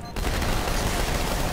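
Dense, rapid gunfire from video game weapons rattles continuously at high volume, a steady fusillade of overlapping shots with no pauses.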